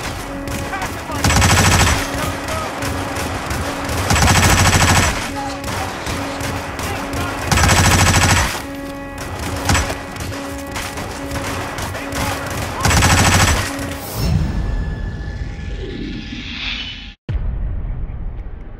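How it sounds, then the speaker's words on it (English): Gunfire in the Hitman video game comes in four loud, evenly spaced volleys over a steady hum, then ends with a whoosh and a sharp thud. "The gunshots,"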